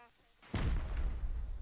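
A rocket launcher fires during a raid in the video game Rust, a single loud booming blast that erupts after a quiet moment and rumbles on, with no voices.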